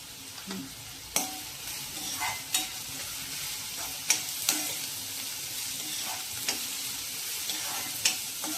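Onion sautéing in a pan for a spiced pithla, a steady quiet sizzle broken by scattered clicks and scrapes of a stirring spoon, with no voices.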